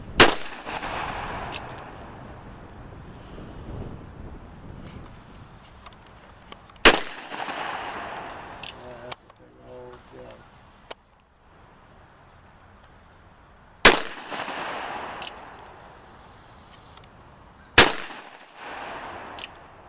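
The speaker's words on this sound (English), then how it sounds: "Shoot a hole right through that pallet there." A Taylors 1873 Colt revolver fires several sharp, loud gunshots at irregular intervals outdoors, each crack followed by a short echoing decay, with quieter handling noises between.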